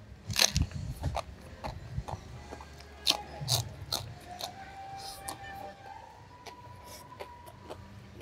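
Crispy lechon skin being bitten and chewed, a run of crunchy bites scattered through the clip with voices talking nearby.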